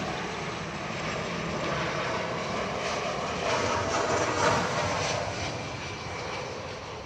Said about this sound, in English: this is Velocity 733 from Melbourne, 737-800